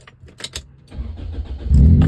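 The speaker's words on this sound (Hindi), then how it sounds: "चलें जी गाड़ी को स्टार्ट करते हैं और निकलते हैं" A car engine cranks and fires up after a few light clicks and key jingles. It then settles into a loud, close idle rumble over the last half second.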